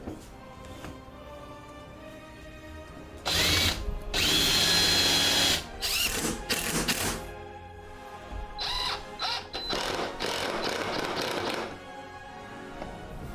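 Power tool driving 2-inch brad nails and 3.5-inch wood screws into a glued wooden frame, several loud bursts of a few seconds each separated by short pauses, close by with no talk.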